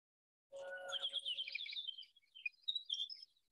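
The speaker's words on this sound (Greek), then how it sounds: "από μία πηγή, τα πουλιά να κελαϊδούν" Chirping birdsong from a reconstructed ancient Greek water-driven bird automaton, with bright warbling and whistled notes that start abruptly, stay steady and close, then break into scattered trills and tweets.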